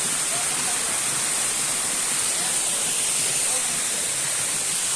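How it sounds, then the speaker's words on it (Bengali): Small waterfall at Khoiyachora, Chittagong, gives a steady, even hiss of rushing water, constant and close, with no pauses or other sounds. "এটা হলো ছোট একটা ঝর্ণা"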